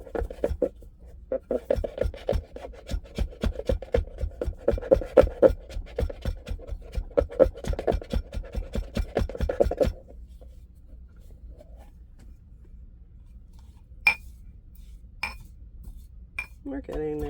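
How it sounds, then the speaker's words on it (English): Dried lavender flowers pulverized with a rapid, steady clatter of grinding that runs for about ten seconds and then stops, leaving quiet room tone with a few small clicks. "So they're actual little lavender flowers. So we're gonna pulverize them too."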